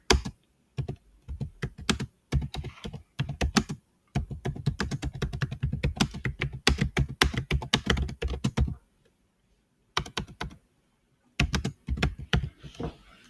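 A sentence is typed on a computer keyboard in rapid, close clattering bursts separated by brief silent pauses, with no voices.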